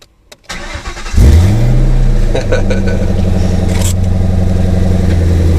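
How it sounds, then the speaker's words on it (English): A car engine is started by pressing the cigarette lighter with the key on and the clutch in, cranking briefly and then catching into a loud, steady idle that stays close and dominant without any speech. "to start the car, you have to put the key in the on position, clutch in, and then press the cigarette lighter over here to get it to fire up"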